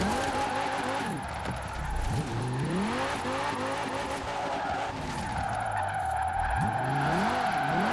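A drift car in Forza Horizon 4 slides sideways, its engine revving loudly while the tires squeal and skid in long sweeping bursts that rise and fall, continuous and close.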